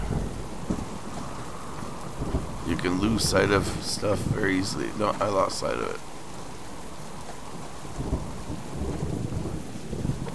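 Steady rain with rolling thunder in the survival video game Subsistence, a continuous wash of rainfall with a louder rumbling swell in the middle, while people talk over it throughout.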